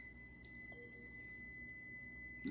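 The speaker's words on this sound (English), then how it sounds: "There's the timer telling me that my other batch of donuts should be ready" Kitchen oven timer signalling that a batch of baked donuts is ready: a thin, steady high electronic tone with faint short beeps over quiet room hum, no talking.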